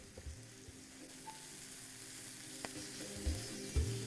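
Chopped onion and green chillies fry in oil, a soft steady sizzle with a few louder knocks and stirring clatters near the end, close and fairly quiet.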